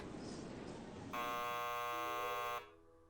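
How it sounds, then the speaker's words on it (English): Theater buzzer in the video game Chaos;Child: a loud, steady electric buzz lasting about one and a half seconds, starting and stopping abruptly, following a faint noisy background. "after a while the buzzer rang and the curtain came up"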